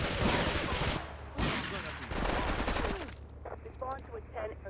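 Rapid bursts of gunfire and explosive shots in GTA 3 Definitive Edition during a mission, loud dense volleys overlapping with game sounds and a voice underneath.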